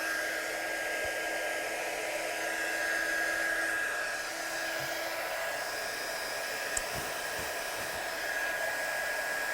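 A heat gun warming up before melting embossing powder on artwork, giving a steady, loud, continuous blowing whir with a faint high whine, running alone without pause throughout.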